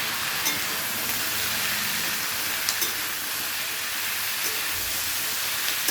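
Sliced pointed gourd fries in a pan with potato and onion, giving a steady, even sizzling hiss that runs throughout with a few soft clicks and stirring knocks.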